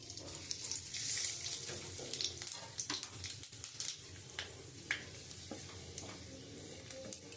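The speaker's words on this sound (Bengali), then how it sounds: "শুকনো লঙ্কা দিচ্ছি দুটো, একটু পাঁচ ফোড়ন দিয়ে দিচ্ছি" Dried red chillies and panch phoron spluttering in hot oil for a fish tenga curry, a steady close sizzle with scattered crackles and pops running throughout.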